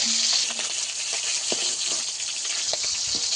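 Oil sizzles and crackles as freshly caught pond kalbasu and rohu fingerling fish fry, a close, steady hiss with scattered pops and spits.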